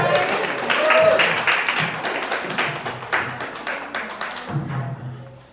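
An audience at a Black authors' poetry event applauds a poet, a dense run of many hands clapping at close range that thins out and fades near the end, with voices mixed in.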